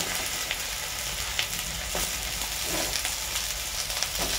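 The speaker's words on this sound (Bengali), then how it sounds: "এবার ঝিঙেগুলো দিয়ে দেবো ভাজার জন্য" Ridge gourd pieces frying in hot mustard oil, a dense, even sizzle heard up close with faint stirring scrapes and small bursts, no voices.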